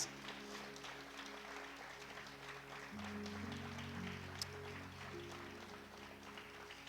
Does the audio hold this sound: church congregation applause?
yes